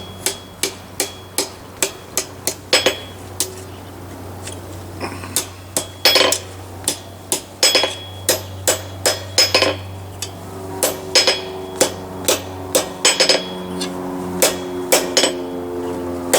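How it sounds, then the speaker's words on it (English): Steady hammer blows ring on metal while forging a Christmas ornament, sharp metallic strikes in a quick, fairly regular rhythm, close by, with a low hum underneath and no talking. "whichever side's short, that's the side you want to hammer on"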